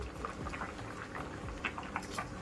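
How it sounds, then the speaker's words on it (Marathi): Rice for chicken biryani boiling in a pot, a steady close bubbling and simmering with soft pops and liquid patter, continuous and fairly quiet with no talking. "आता राईस बॉईल झालेला आहे"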